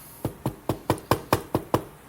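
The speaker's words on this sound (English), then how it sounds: "hopefully, knock on wood." Eight evenly spaced knocks on wood, crisp and fairly close, with a steady brisk rhythm and no talking.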